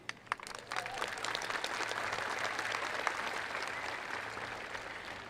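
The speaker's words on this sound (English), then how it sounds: "I'd like to start off by giving a round of applause to all of the seniors graduating here tonight." A large crowd applauds steadily for graduating seniors at a high school graduation ceremony, a few sharp claps starting it before the clapping swells into a sustained, fairly distant wash that holds evenly throughout.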